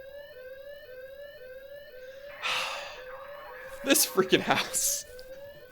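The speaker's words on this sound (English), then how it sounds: "Apparently they have glass cutting alarms." A house alarm in the video game Thief Simulator, a steady repeating electronic tone running under the whole stretch, with gasps, breathing and a man's exasperated remark over it.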